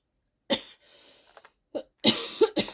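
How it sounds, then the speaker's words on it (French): A person coughs several times in a quiet room, sharp separate bursts with short pauses between them, the last few close together. "Je rallume la caméra, ça me fait tousser"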